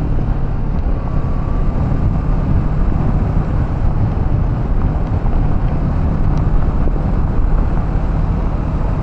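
Heavy, continuous wind buffeting roars over a Kawasaki Z650RS motorcycle on the move, a dense low rumble filling the whole stretch with no talk.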